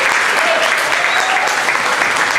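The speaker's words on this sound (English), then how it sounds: "Give them a round of applause." A ceremony audience at an Oxnard High School Air Force ROTC event gives steady, loud applause for the honor flight, a continuous dense clapping with no pauses.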